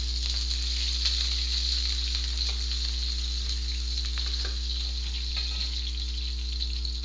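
Garlic and onion sautéing in a pan, a continuous loud frying hiss with a steady hum beneath and occasional faint stirring clicks, close and constant throughout.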